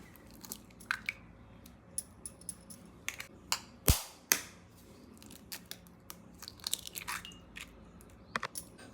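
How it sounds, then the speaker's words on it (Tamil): An egg cracked against a pan rim and poured in while cooking Tamil salna kalakki: a sharp crack, then soft wet plops among scattered clicks and taps, fairly quiet with no talk. "இப்போது முட்டையை உடச்சி ஊற்றிக்கலாம்"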